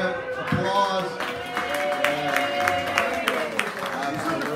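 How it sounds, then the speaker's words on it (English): Audience at a comedy set in a brewery clapping and cheering, a steady wash of applause with a few voices and sustained tones running underneath. "Applause."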